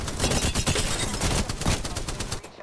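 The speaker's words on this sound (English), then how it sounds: "Yeah, they're just shooting me." Rapid, loud bursts of automatic gunfire in the video game Apex Legends, with sharp shots repeating closely in a steady rattling stream for a few seconds.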